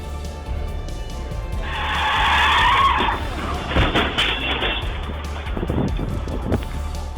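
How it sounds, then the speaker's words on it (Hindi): Car on a highway in Hapur skidding out of control and swerving before hitting two vehicles: a loud tyre screech of about a second and a half, then rough bangs and scraping noise under wind rumble. "कार अनियंत्रित होकर पहले दाईं ओर भागी, फिर बाईं ओर घूम गई और तेज आवाज के साथ स्किड करते हुए 2 गाड़ियों से जाकर टकरा गई।"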